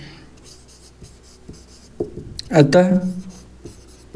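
Writing on a board during a Hindi-language maths lesson makes a few soft scratching strokes, then a louder flurry of scrawling, under a teacher's speech.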